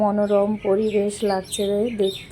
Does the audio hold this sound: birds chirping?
yes